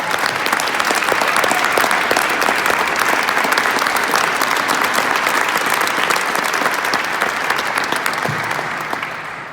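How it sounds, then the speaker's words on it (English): Loud, sustained applause from a large crowd, dense clapping that continues steadily and begins tapering off near the end. "Please stand so we can give you a round of applause."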